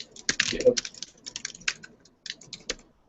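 Fast, close typing on a computer keyboard, a busy patter of crisp key clicks in uneven bursts with short gaps, with a brief voice faintly underneath.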